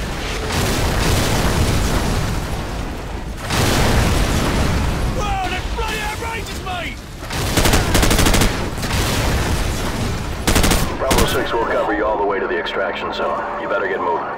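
Artillery strike explosions in Call of Duty 4: Modern Warfare, a rapid series of loud, heavy booms and bursts rolling one after another, with radio chatter and voices between the blasts.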